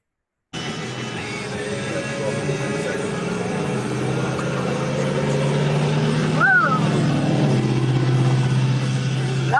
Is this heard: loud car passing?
yes